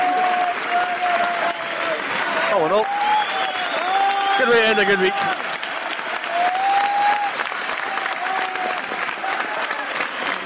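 A football crowd at Kelty applauds steadily at the full-time whistle, a continuous wash of clapping heard under close commentary speech throughout.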